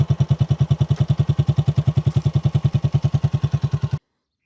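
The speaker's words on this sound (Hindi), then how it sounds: "ये बाइक स्टैंड बाय पे आ गया है, तो इसको मैं आपको चेक करवाऊँगा। इसका साउंड भी आप देख सकते हैं।" A 2019 Honda CG125 motorcycle idles on its stand at a repair shop after tuning, its single-cylinder engine thumping in a steady, fast, even rhythm, loud and close, before cutting off abruptly near the end.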